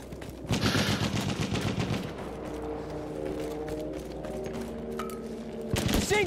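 Rapid bursts of machine gun fire crackle in a Battlefield 1 match, with a heavier run of shots early on, then a quieter stretch of distant rumble and a final loud burst.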